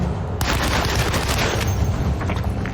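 A big gun fires in Alone in the Dark, a dense, continuous roar of rapid blasts and booms that stays loud and unbroken throughout.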